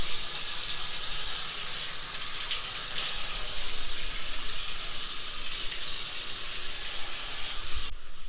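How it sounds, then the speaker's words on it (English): Continuous hiss of water running from a hotel bathroom tap with low water pressure, steady and close, with a faint splashing texture throughout. "There's not honestly a ton of water pressure either."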